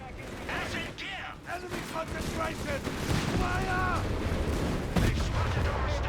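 Machine gun fire pinning down a rifle squad in the WWII strategy game Company of Heroes 3, sharp bursts of gunfire and distant explosions under steady commentary from a caster.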